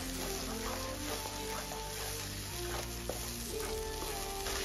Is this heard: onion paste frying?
yes